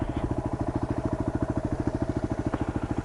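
A stock-exhaust 2008 Yamaha WR250R motorcycle idles nearby with a steady, rapid low thumping pulse that holds an even rhythm throughout.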